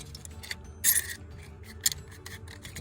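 Scissors snip through thin material being cut into tree dog tags, with two short, crisp cuts about a second apart and faint rubbing and handling between them.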